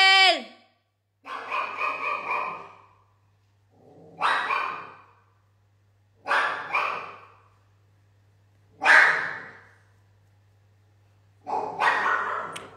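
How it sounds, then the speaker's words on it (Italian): A dog barks indoors in repeated bursts, several loud barks in clusters separated by short pauses, close by, with a steady low hum underneath. "sta abbaiando"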